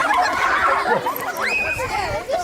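Birds calling up close in a noisy, gobbling, fowl-like chorus that rises and falls in pitch, with a bright upward whistle partway through, mixed with people's voices and chatter.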